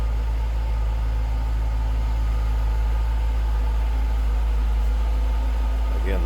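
A 2000 Jaguar XKR with stock, unmodified exhaust idles steadily, a smooth low rumble heard up close and continuous throughout.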